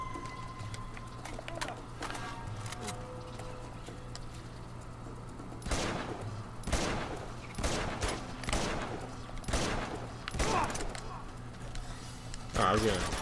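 Gunfire in the action game Uncharted 2: Among Thieves, with a run of sharp, separate shots in the second half that crack out one after another over quiet game ambience and a faint voice.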